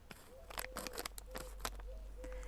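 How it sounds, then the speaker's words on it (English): Scissors cut open a packet of salt in a few quick, crisp snips mixed with crinkling plastic, close but quiet, with no talking. "Let me cut it with my scissors. So I am cutting it."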